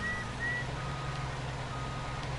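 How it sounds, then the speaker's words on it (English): A truck reversing beeper sounds in a couple of short tonal pulses over a steady low engine rumble as the truck rolls backward outdoors, with no talking. "Why is the truck rolling away from me?"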